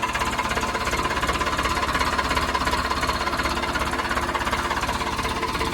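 A steady, loud diesel clatter from a used tractor engine idling nearby, running evenly throughout with no speech.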